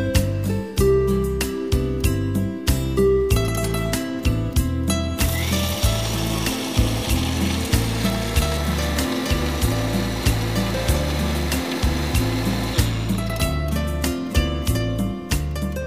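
An electric kitchen mixer grinder blends beetroot chutney with salt and spices, running as a loud, continuous whirring grind for several seconds. A rhythmic backing beat plays before and after it.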